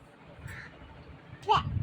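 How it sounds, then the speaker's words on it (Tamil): A crow caws close by in a short burst near the end, after a faint earlier call, over quiet background noise. "காக்கா போக சொல்லுமா, கத்திக்கிட்டே இருக்குமா காலையிலேருந்து"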